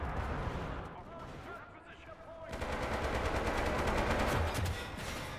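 Machine gun fire rattles in the Pacific battles of the video game Enlisted, with Commonwealth forces fighting. It comes as dense, sustained bursts and heavy, continuous gunfire over a noisy battlefield, with a voice talking over it.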